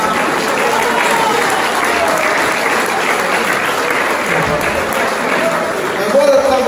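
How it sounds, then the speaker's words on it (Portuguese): Audience applause at an outdoor comedy show at a fair in Vale das Éguas, Algarve, a sustained dense round of clapping from a large crowd held at an even level, with a voice speaking faintly underneath. "Podem bater palmas"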